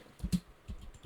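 Several soft key presses on a computer keyboard as a printer model number is typed, a few short close taps spread over about a second with quiet gaps between.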